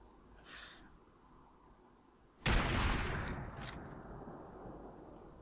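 A single loud gunshot in Fallout 4, abrupt and sharp, followed by a long rolling echo that slowly decays; faint brief sounds occur before it, with no talking.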